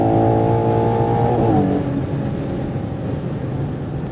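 A 2025 Ferrari Purosangue accelerating hard on the Autobahn: a loud, steady engine drone heard from inside the car, its pitch dropping partway through as it shifts, then settling into a rougher, even roar with no talk.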